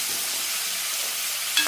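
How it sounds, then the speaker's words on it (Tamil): Beetroot sautéing in a pan gives a steady, close hiss of sizzling oil that holds evenly throughout, with one brief clink near the end. "பீட்ரூட்டையும் வதக்குவோம்."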